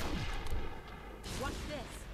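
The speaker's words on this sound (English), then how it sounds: "Some buggers shooting at me from the building behind me" Enemy gunfire in the shooter game Defiance sounds as dense bursts of shots and booming blasts, loud and continuous through a short stretch of battle noise.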